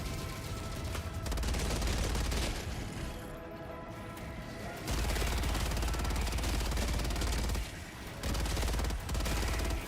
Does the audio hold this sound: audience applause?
no